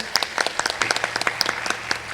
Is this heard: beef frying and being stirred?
no